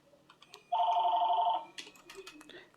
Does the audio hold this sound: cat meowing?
no